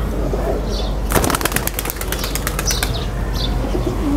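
Pigeons beat their wings in a close, loud burst of rapid flapping lasting a couple of seconds, with faint cooing and chirps around it and no talking.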